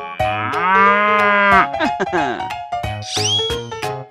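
A cow moos loudly and close in a long drawn-out low, followed by shorter bellows and bright tonal effects in a playful animal sound sequence.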